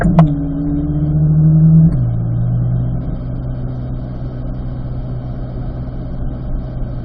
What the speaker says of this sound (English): If the car can take third gear now, go ahead and go up to third.